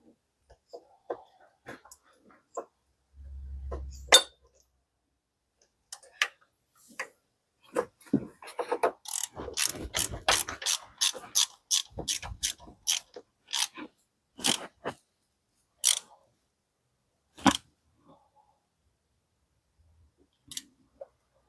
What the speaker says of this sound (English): Once you have it finger tight or hand tight, keep going with the ratchet.